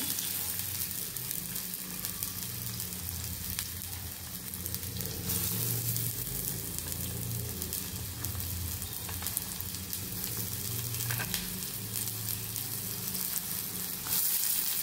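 Onion and capsicum frying in a pan, continuous loud sizzling with occasional scraping stirs and clatters, no talking.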